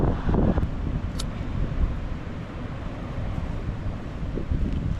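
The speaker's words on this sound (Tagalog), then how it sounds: "Nadi-disturb tayo sa hangin mga kaibigan" Steady wind buffets the microphone in a continuous low rumble for the whole stretch at a beach campsite, close and fairly loud, with no voices.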